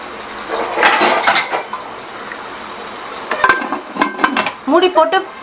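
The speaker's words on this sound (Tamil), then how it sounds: "நான் இதை அப்படியே மூடி போட்டு மூடிடுவேன்." A metal lid is set onto a pressure cooker of aviyal vegetables in a home kitchen. Bright metallic clanks and rattles come in a few short clusters, close and fairly loud, separated by brief quiet gaps.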